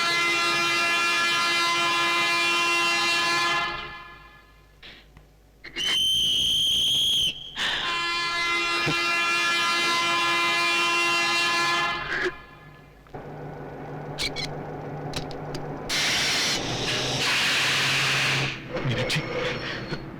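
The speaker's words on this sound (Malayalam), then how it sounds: "ട്രെയിനിപ്പോ പോവും" A passenger train sits at a station about to pull out, its long horn sounding loud and sustained twice, with a sharp whistle burst between them and clattering, hissing noise afterward.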